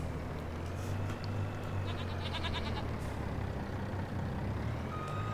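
Goats bleat in the Farming Simulator 25 video game, several short calls over a steady engine drone with faint beeping in the background.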